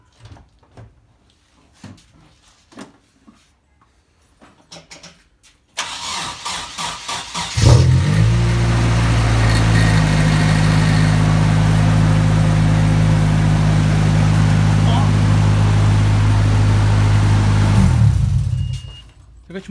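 A Nissan 240SX with a GT2871R turbo starts after a few clicks and door sounds, then settles into a loud, steady, droning idle that runs for about ten seconds before cutting off.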